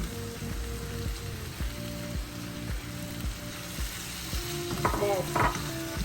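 Chopped tomatoes fry in a pan with crushed kasuri methi for a chicken palak makhni, sizzling steadily and loudly up close while a spoon stirs and scrapes the pan.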